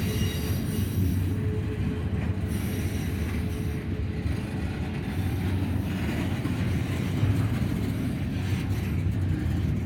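A train rolls past at Deshler with a steady, loud rumble of wheels and cars, faint squealing from the wheels running throughout, and no voices heard.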